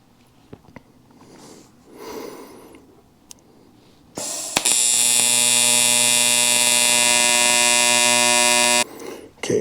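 A cheap TIG welder running on aluminum for a custom truck project: after quiet crackles, a loud steady electric buzz with strong harmonic hum starts abruptly and holds for about five seconds, then cuts off.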